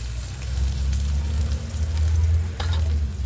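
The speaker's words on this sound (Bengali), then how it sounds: "পেঁয়াজটাকে একটু ভেজে নেব" A chopped onion frying in oil with panch phoron spices, a dense crackling sizzle over a steady low hum of the stove, close and loud with no speech.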